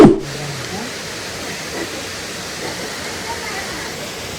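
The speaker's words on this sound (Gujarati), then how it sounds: "ધારી ડેમનું પાણી આવે છે" Water from the Dhari dam rushes in a steady broadband roar that continues throughout, outdoors near a Khodiyar temple at Galdhara, with a short knock at the very start.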